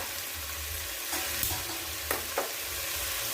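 Chicken stirred in butter in a pan, a steady sizzle with a few sharp scrapes and clinks of the utensil near the middle and end, alone without talk.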